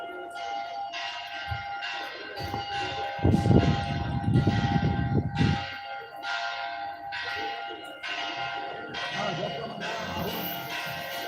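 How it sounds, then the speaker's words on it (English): Church bells ring at St. Gertrude Church (Santa Gertrudis) in Envigado, Colombia, struck in a steady, regular sequence of resonant peals with outdoor street noise and a brief low rumble partway through. "And the church bells are ringing at the St. Gertrude Church, Santa Gertrudis."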